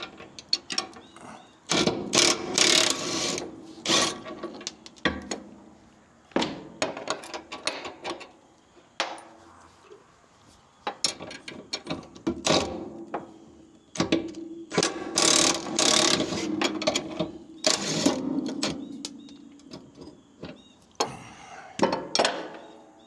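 A ratchet wrench loosens 15/16 bolts from a bracket on a stretched Marmon truck frame, with repeated bursts of rapid clicking broken by short pauses in a workshop.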